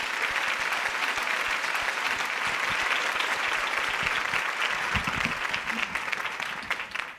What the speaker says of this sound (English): please make some noise for Rhianette Whitehead